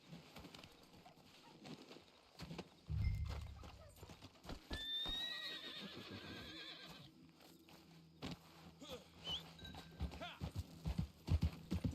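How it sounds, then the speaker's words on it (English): Horse whinnies and clip-clopping hooves in the Western video game Red Dead Online, a loud neigh near the start followed by scattered hoof steps, with faint bird calls and occasional talk over it. "Let me tame a horse real quick."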